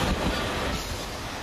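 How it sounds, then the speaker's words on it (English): An East Midlands train running from Liverpool Lime Street to Norwich passes close by, a loud broad rush of wheels and rail noise with faint clatter, steady throughout the short stretch. "East Midlands service from Liverpool Lime Street to Norwich"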